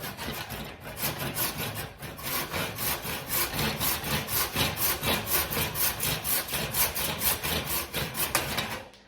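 A hand saw cuts through wood while shaping a shillelagh handle, a steady run of about twenty close, even back-and-forth strokes, loud and rasping throughout with no talk.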